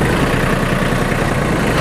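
A riding finishing mower engine idles close by, a steady rumble, low and constant throughout with no speech.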